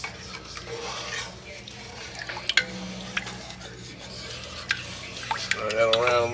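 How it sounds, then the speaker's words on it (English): Spoon stirring gumbo seasoned with fresh black pepper in a pot, with scraping strokes and occasional sharp clinks of metal against the pot over a faint sizzle. "Stir that around a little bit"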